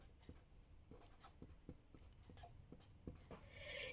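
Chalk or marker strokes on a classroom board, a series of short, faint scratches and taps in an uneven rhythm.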